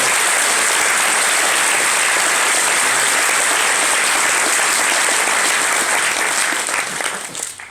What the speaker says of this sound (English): If you'd like to give them a big round of applause,